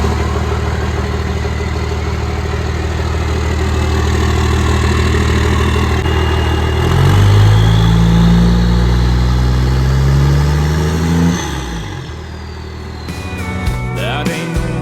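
12-valve Cummins diesel truck engine idling through a cut exhaust. The loud, raw rumble rises as the engine revs up and holds for several seconds, then drops back. Clicks and music come in near the end.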